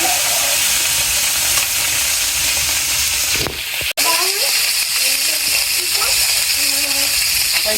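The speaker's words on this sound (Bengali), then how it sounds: "তেল গরম হয়ে গেছে মাছ বাজি বাজির জন্য মাছ বাজি রাখতে পারবো" Fish frying in hot oil in a home kitchen gives a steady, close sizzling hiss throughout, broken by a brief dropout midway, with faint voices in the background.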